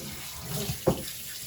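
Water runs briefly during a dog's bath rinse, with a soft, hissing flow and one quick splash near the end. The sound is close and short, with no voices.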